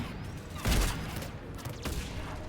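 A dense burst of gunfire in Mass Effect 3, with one heavier thump near the start over a constant loud mix of battle noise.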